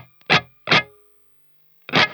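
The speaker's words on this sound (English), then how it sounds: "I'll just quickly show you how much reverb I'm running" Three short guitar strums through heavy reverb from a Strymon Flint pedal, each ringing out with a spacious tail and a pause before the last one.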